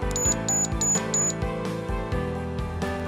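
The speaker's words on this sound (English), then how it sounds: "It should beep 4 times to indicate it is working." A cat and fox deterrent unit beeps four times after a 9-volt battery is connected, four short, evenly spaced electronic tones over a steady loud hum.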